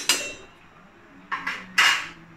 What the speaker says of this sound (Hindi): कैसे हम चिप्स कटर से डायरेक्ट बनाते हैं, इसको आप तुरंत काटिए और तुरंत छानिए इसको।